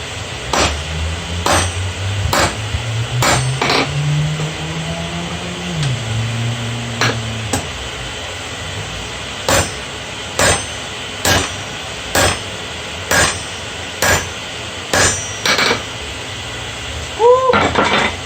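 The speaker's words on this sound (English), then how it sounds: "That was one heavy ass hammer." A heavy hammer strikes steel heated to about 1800 degrees while a seax is forged, landing a dozen or more sharp, loud, evenly spaced blows, with a low droning hum underneath during the first half.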